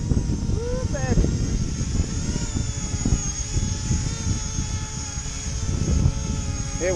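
An E-flite Convergence RC aircraft hovers in strong, gusty wind, its steady whining propeller drone close and continuous throughout, with wind buffeting the microphone and a person's voice briefly breaking in.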